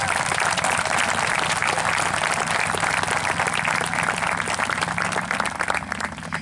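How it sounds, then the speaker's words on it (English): A graduation audience at Peekskill High School's 2021 ceremony gives the graduates a big, sustained round of applause, dense clapping filling the whole stretch at steady loudness with a faint crowd murmur beneath. "Let's give them another big round of applause."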